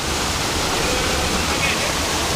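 Steady broadband rush of a waterfall pouring into a lake, a continuous loud wash of falling water with no breaks throughout.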